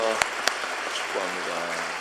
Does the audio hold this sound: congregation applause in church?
yes